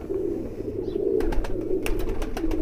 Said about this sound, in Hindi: और दोस्तों ये ललसरा कबूतर